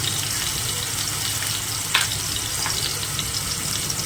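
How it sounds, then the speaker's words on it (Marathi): Ginger-garlic paste sizzles steadily in hot oil in a home kitchen while bheja fry is being made, a continuous close frying hiss with one brief clatter partway through and no voices. "छान अशी परतून घेणार आहे तेलावर"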